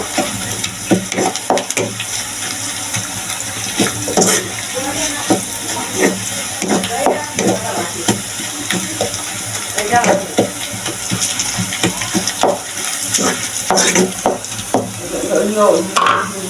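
Garlic and onions fry in a pan with salt and chili for red amaranth greens, giving a continuous hissing sizzle broken by frequent stirring scrapes and clatter, close and fairly loud, with brief talking over it.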